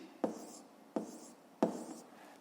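A pen writes on paper, working out a math exercise in three brisk strokes spaced about half a second apart, close and quiet with no talking.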